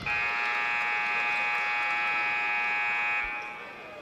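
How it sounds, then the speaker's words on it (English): A loud, sustained electronic buzzer at a high school basketball game blares steadily for about three seconds, then cuts off, leaving a quieter background hum. "They got a really good buzzer here."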